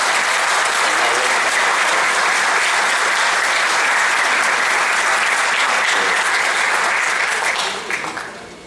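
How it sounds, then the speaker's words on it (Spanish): Loud, dense applause from an audience welcoming a guest labor law professor at a labor arbitration lecture, continuous and full before tapering off near the end. "para quien pido un fuerte aplauso"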